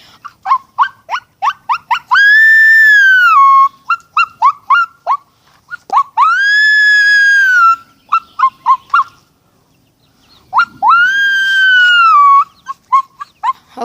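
A person's voice imitates a coyote, mixing rapid yips and short barks with three long rising-and-falling howls, loud and close throughout.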